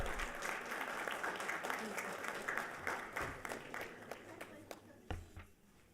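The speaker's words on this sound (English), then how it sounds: "A huge round of applause goes out to head coach Kimberly Lopez" An audience at a school board meeting gives a round of applause, steady, moderately distant clapping from many hands that thins out and fades over a few seconds.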